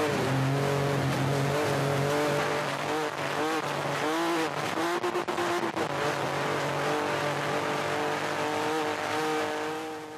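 A Mitsubishi Pajero rally car from the 2001 Dakar races fast off the track, its engine loud and close, revving and shifting over a continuous roar with rough surface noise.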